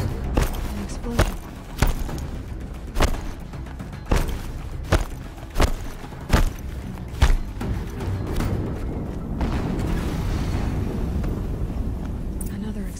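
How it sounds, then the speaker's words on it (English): Explosions in Horizon Zero Dawn combat: a rapid series of about ten evenly spaced heavy thumping blasts, then a rumbling roar, with in-game voices talking underneath. "Another explosion."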